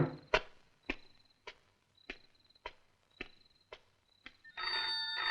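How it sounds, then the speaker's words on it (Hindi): An old landline telephone bell rings in a repeating pattern of about eight short bursts, fairly close and clear, in a Hindi action film scene. Near the end a louder, steady burst of sound takes over. "टेलीफोन?"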